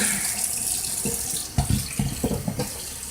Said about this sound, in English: Need to run that garbage disposal a little bit.